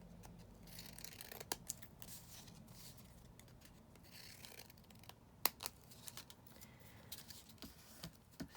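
Paper is trimmed with scissors in quiet, scattered snips and rustles on a desk, with close, faint crisp cuts spread unevenly throughout.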